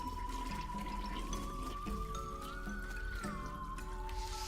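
Water rushes from a flushing toilet in a video game, a continuous pouring and gurgling wash with a thin tone that rises and falls midway, steady for several seconds with no talking.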